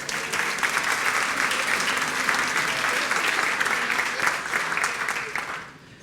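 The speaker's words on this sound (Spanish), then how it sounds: "Un aplauso para ellos." A congregation at Sunday Mass applauds warmly, a dense, close patter of many hands lasting about six seconds before tapering off at the end.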